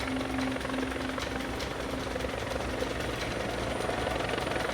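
A military helicopter flies on a French army operation in the Sahel at about 300 km/h, giving a loud, constant rotor drone with a steady whine and no pauses.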